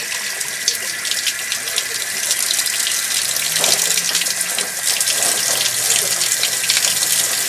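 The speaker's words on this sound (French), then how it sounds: "Fait que là, le chauffe-eau est en train de se vider." Water heater draining through its opened safety valve, a steady hissing gush of water rushing out continuously at close range, slightly louder in the second half, with no voices.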